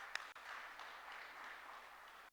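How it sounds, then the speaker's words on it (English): An audience at a Theosophical Federation session claps to welcome a speaker, producing faint, distant and steady applause that runs evenly throughout. "Give him warm welcome with claps."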